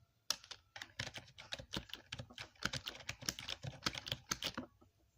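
Rapid, uneven keystrokes from a computer keyboard with a mouse also connected, clattering steadily and fairly close for about five seconds with no talking.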